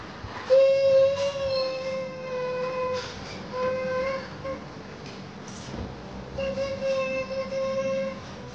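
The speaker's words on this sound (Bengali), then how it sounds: "এটা টয় ট্রেন।" A toy train hums along with a steady whirring motor and repeated high electronic whistle tones, loud and close.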